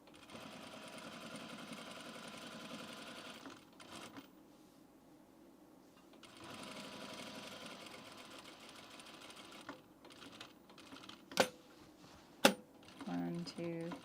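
A sewing machine stitches men's pants in steady rapid runs, stopping and starting, with brief pauses and two sharp clicks near the end, at moderate volume with quiet talk.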